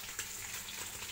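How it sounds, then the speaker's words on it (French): Meat browning in a hot pan, a soft continuous sizzle and crackle of frying with faint stirring, no voices. "je suis en train de faire dorer la viande"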